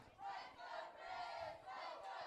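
A crowd at a Bluff City Wrestling event roars and cheers in swelling waves, the sustained shouting rising and falling, sounding somewhat distant and muffled, with no talk over it.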